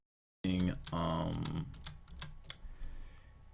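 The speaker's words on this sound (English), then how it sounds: "I am now going to backspace all of this" Computer keyboard key tapped repeatedly to erase text, a burst of close quick clicks that starts suddenly, thins into sparser taps with one sharper click, and fades out.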